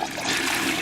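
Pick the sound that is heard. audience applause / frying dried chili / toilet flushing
toilet flushing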